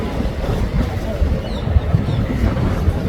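A speed launch boat moves across the water near the Gateway of India in Mumbai in the evening, heard as a low, churning engine rumble mixed with gusty wind buffeting close to the microphone.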